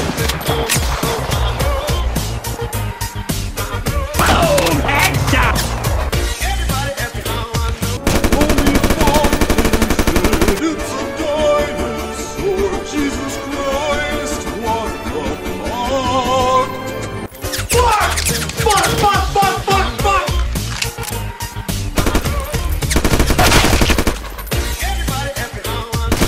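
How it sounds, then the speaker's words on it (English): Loud, rapid machine gun bursts fire in the Roblox game ACS Gun Testing. The shots repeat in dense runs that fill the whole stretch, layered over other game sound. "machine gun."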